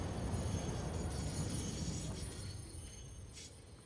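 A train in the factory-building game Satisfactory brakes, a broad rumbling rush of wheels and rails that gradually fades and eases off over a few seconds, with faint squealing highs.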